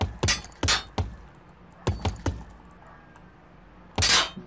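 A hammer smashes a car in the video game Where is My Hammer, landing sharp cracking impacts in uneven clusters of two or three, each a loud near bang with short breaking debris, separated by quiet gaps.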